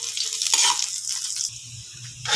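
Garlic sautés in a hot pan for adobong talaba, a steady crackling sizzle with hissy bursts and a few clinks of stirring, close and alone without talk.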